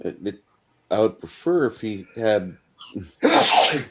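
A single loud sneeze bursts out at the end, following close-up conversational speech during a livestreamed tabletop game session, with a speaker blaming mountain cedar allergies.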